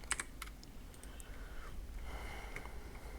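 Faint, scattered keystrokes on a computer keyboard tap out a few short bursts of typing in a quiet room, with no voices over them.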